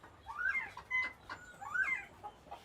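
A bobwhite quail calls nearby, giving two clear, rising whistled phrases about a second apart with a short note between them, against a quiet background.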